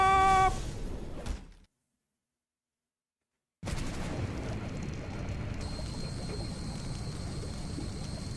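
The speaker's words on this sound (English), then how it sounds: "Okay, so we are crashed." Plane crash in the Stranded Deep video game: a sudden loud blast that collapses into complete silence, then a heavy rushing, churning wash of noise resumes and continues steadily, with a faint high tone layered in later.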